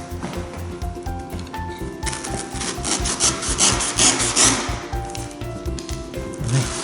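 A blade cutting into cured, hardened spray polyurethane foam, making steady rasping, rubbing strokes that repeat rhythmically and close up, with a brighter scraping burst partway through and no talking.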